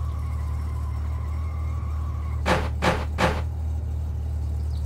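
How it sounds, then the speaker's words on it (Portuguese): Three quick ratcheting clicks of a car handbrake being pulled on in My Summer Car, spaced evenly and sitting close over a steady low engine idle hum. "Tô chamando o freio de mão aqui, ó."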